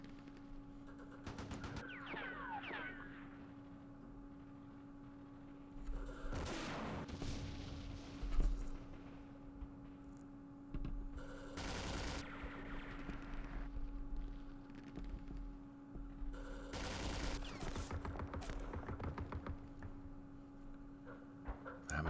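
Machine gun and artillery fire in the war game Campaign Series Middle East, several separate bursts of booming and rattling gunfire over a low steady hum, with quieter gaps between them.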